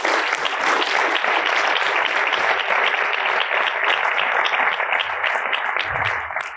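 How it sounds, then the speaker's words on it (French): Sustained audience applause in a hall at an evening talk, welcoming a guest speaker: dense, steady clapping from a crowd, loud and even throughout before easing slightly at the end. "On peut l'applaudir."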